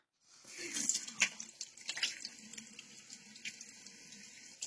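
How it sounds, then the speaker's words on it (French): Tap water running steadily into a sink while hands are washed and rinsed, with splashes and faint drips breaking the continuous flow at close range, and no voices. "Et on va ensuite pouvoir laver et rincer."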